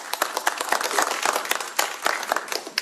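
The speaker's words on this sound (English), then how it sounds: "one more round of applause" Audience applause after a rendition of Lift Every Voice and Sing at a Juneteenth celebration in Washington State, a steady burst of many hands clapping close and fairly loud, with no talk over it.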